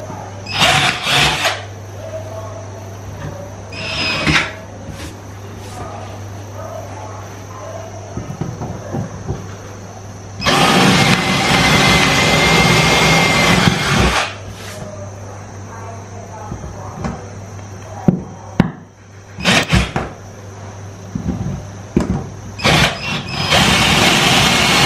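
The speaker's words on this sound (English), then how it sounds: "He's going to drill a bit of a bigger hole." A power drill whirs loudly in several bursts while drilling a larger hole during a bathroom makeover, the longest running several seconds, with a steady hum and talking in between.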